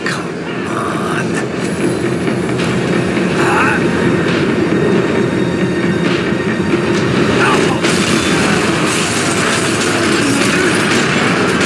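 A tram in the video game Max Payne 3 rolls along its rails with a steady, loud rumble and clatter of wheels and carriage, unbroken for the whole stretch, with faint metallic squeals and knocks.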